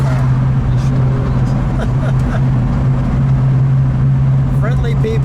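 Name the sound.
1969 Mercury Cyclone Spoiler 351 muscle car driving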